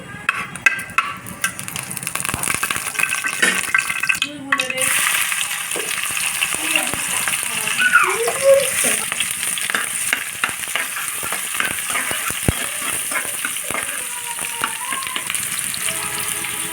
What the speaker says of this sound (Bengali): তো জিরা ফোড়ন দিয়ে দিচ্ছি।